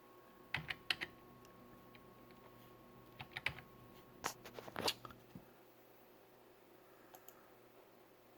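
Soft keystrokes tap on a computer keyboard while an email is being composed in an office application, coming in short irregular bursts, quiet and close with no talking.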